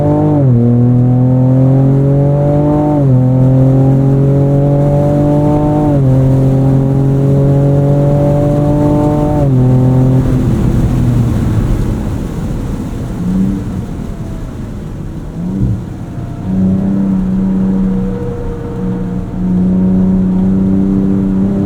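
A 2024 Ford Ranger Raptor pickup laps a race track in four-wheel auto mode, its engine loud and close, revving up through repeated gear changes with rising and falling pitch, then easing to a rougher, lower drone before climbing again.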